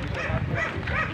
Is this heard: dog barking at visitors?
yes